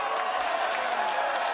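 A capacity crowd at a WWE SmackDown wrestling event roars and applauds steadily, a dense, continuous wash of cheering that fills the arena throughout.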